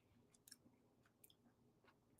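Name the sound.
chewing a gummy edible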